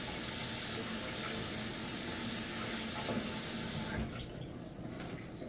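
A kitchen tap runs steadily with a loud hissing stream for hand washing, then is shut off near the end, leaving a few faint drips and small clatters.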